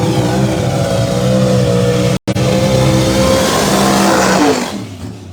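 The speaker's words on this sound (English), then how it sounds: "that's Alan Drinkwater zooming by in Pro 632 Outlaw trim." Pro 632 Outlaw drag race car roaring past at full throttle, a loud, sustained engine howl with steady harmonic tones. It cuts out briefly, resumes, then fades as the car moves away.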